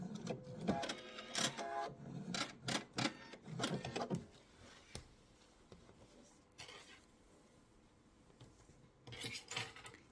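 A sewing machine stitches a diagonal seam across the corner of a laptop sleeve, giving several bursts of rapid mechanical clatter in the first few seconds, then a quieter pause before another short run near the end.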